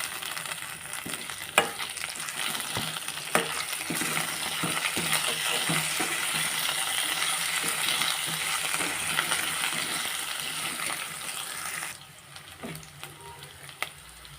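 Curry leaves fry in hot oil for mutton rasam, giving a steady close sizzle with occasional clinks of a spoon against the pan. The sizzle drops suddenly near the end.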